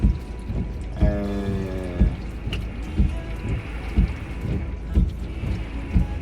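Rain falls outdoors beneath trees, driven by gusty wind blowing in from the sea to the east; a steady, close hiss of rainfall with low rumbling gusts and repeated dull thumps of drops.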